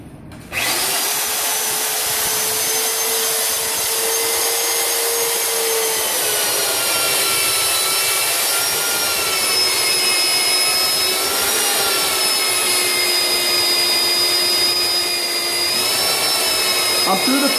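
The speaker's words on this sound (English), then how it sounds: "We're gonna be doing this cut on our AC50 machine, which is relatively new" An AC50 mid-size magnetic drill runs a 2 1/8 inch annular stack cutter with through coolant, boring through stacked steel plates. It gives a loud, continuous motor whine with shifting harmonic tones, and no talk.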